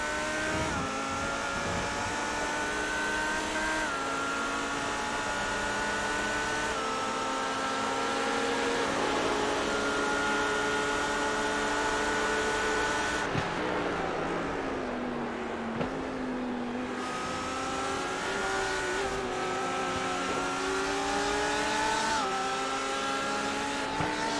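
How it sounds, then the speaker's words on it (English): Lamborghini race car engine in the iRacing sim at Silverstone, a loud, continuous high-revving roar climbing through gears with brief dips at shifts, one deeper bogging lull midway, then rising again; no talking. "Lambo down the hangar straight."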